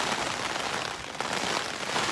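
Heavy rain pours steadily during a summer thunderstorm in the New Hampshire mountains, a dense, continuous hiss of drops drumming on surfaces close by, with no voices.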